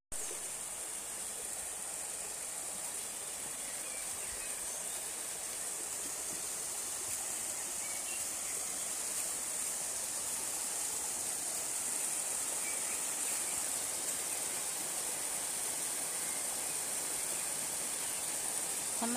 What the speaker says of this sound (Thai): มันไหลมาจากน้ำตก